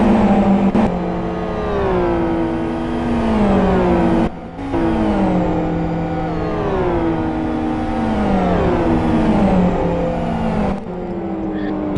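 GT1 race cars from the 2013 World Series roar in a steady, loud engine whine, pitch rising and dropping through repeated gear shifts as one car pulls alongside and overtakes another, with brief lift-off dips.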